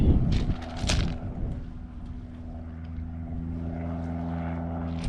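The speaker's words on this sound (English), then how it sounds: "We've got a plane up there, look." A propeller airplane drones steadily overhead by the River Humber, a low continuous engine hum with a brief louder rumble near the start.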